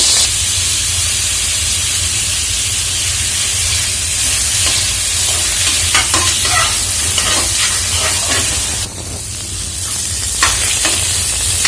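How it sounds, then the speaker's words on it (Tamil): Brinjals frying in hot oil, a loud continuous hiss and sizzle close up, with scattered crackles and a brief dip near the end where the frying briefly eases. "ஆயில் சூடானதும் இந்த கத்திரிக்காயெல்லாம் ஒரு 3/4 பாகத்துக்கு நம்ம இந்த ஆயிலையே வேக வச்சுக்கலாங்க."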